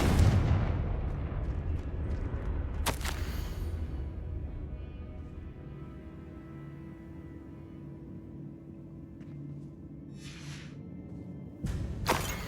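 Fiery blast spell explosions in Hogwarts Legacy, a loud rumbling boom that slowly decays into a low hum, with sharp cracking bursts near the start and end.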